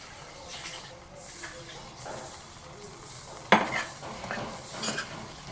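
Crisp, oven-warmed puffed rice is tossed with fried tamarind and gram-flour masala for girmit: quiet rustling and stirring, with a sharp clatter of spoon against bowl partway through.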